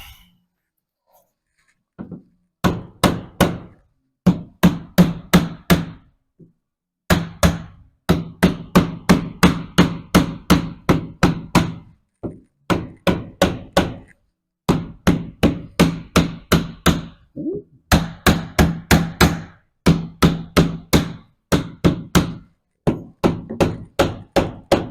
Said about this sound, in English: Time for the hammer.